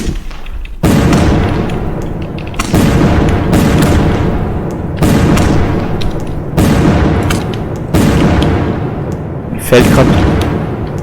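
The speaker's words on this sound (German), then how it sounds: "Mir fällt gerade auf, dass es doch nicht die Dumbum Big war, sondern die Happy Salute, die eben so schnell schießt." A Happy Salute firework battery in the game Pyroworks fires loud, close booms in a regular rhythm, about five in a row. Each blast has a sharp attack and a long, fading crackle tail.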